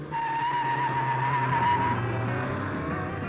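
A car with a 1600cc engine accelerates, a steady droning engine note with a rising whine that holds for about two seconds before settling, continuous and fairly close with no talking.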